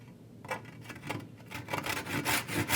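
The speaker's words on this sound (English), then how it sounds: "I'm going to use a different saw this time." A larger hand saw cutting wood for a simple dovetailed box, its steady rasping strokes growing louder and faster, close by and alone.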